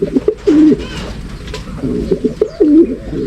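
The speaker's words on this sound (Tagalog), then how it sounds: "binabasa nga natin mga kalapatids" Racing pigeons coo in repeated low, throaty rolling phrases, close and clear, with a brief pause between bursts.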